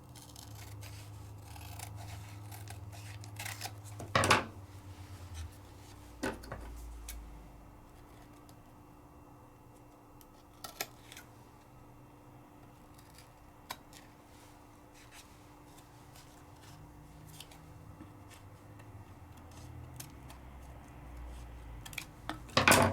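Scissors trimming rice paper at a craft table: faint, scattered light snips and ticks over a quiet room hum, with no one speaking.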